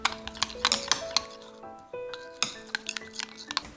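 Oven-roasted beet and carrot salad dressed with olive oil, honey and sea salt being tossed in a dish: quick clinks and scrapes of utensils against a bowl come in irregular bursts, close and fairly quiet.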